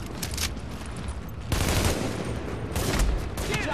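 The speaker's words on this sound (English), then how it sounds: "He fucking shot me with a pistol." Repeated pistol gunshots and gunfire bursts in the video game The Division, dense and loud throughout, with a sharper flurry of shots in the second half.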